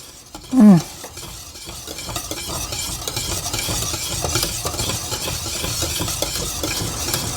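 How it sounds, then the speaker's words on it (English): A thick butterscotch pudding is stirred in a pot with a spoon, giving a steady soft scraping and swishing with faint clinks. One brief loud knock comes near the start, then the stirring carries on close up with no talk. "I'll keep on stirring until I can get that butter all melted in the pudding."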